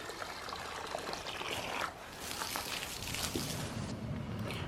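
Water pours steadily into a large pot being filled to boil an elk skull, a close, continuous splashing stream with a brief shift in tone midway.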